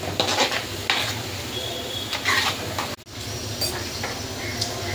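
Kurma curry being stirred in a pan with kasuri methi and kitchen king masala, a spoon scraping and clinking against the metal in uneven strokes over a soft sizzle, no talking.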